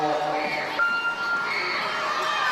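Crowd cheering and shouting inside an indoor track arena at a youth meet, a steady wash of many voices with higher children's shouts, fairly loud and continuous throughout.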